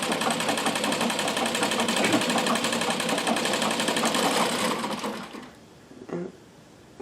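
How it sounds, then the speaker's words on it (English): A Royal Brother sewing machine stitches at a fast, steady pace, giving a dense, loud mechanical whirr and rattle for about five seconds before it slows and stops, leaving a few faint clicks. "It's a really, really, really nice machine to sew on."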